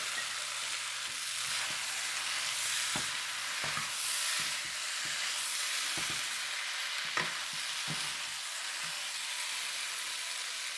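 Onions sizzle in a pan for pork curry, producing a continuous dense hiss with scattered soft stirring knocks, heard up close and without talk.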